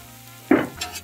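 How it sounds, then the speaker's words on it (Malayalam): Oil poured into a hot pan while cooking Kerala-style beef curry, giving one short burst of sizzle that fades quickly into a faint crackle. "കുറച്ചും കൂടി എണ്ണ ഒഴിച്ചു കൊടുക്കുകയാണ്."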